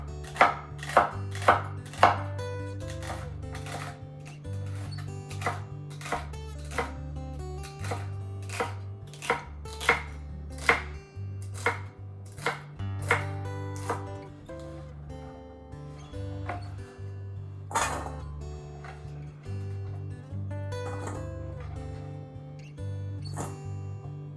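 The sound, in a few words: knife chopping celery stalks on a board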